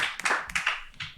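Audience clapping for a woman walking onto a stage: a handful of distinct, close claps in uneven bursts over a broad hiss of applause, with no talking.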